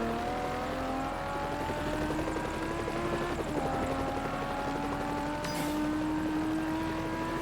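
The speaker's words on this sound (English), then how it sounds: "Another chopper, or another aircraft, this time a chopper." Helicopter in the Forza Horizon racing game, a steady rotor drone with rhythmic blade chop and rising engine whine, moderately loud over continuous game ambience, one brief sharp sound near the end.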